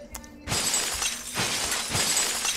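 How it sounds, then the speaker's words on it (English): Glass windows smash in PUBG, a sharp shatter followed by two more bursts of breaking glass, loud and close, with a faint tonal sound just before the first break. "Smashing all the windows."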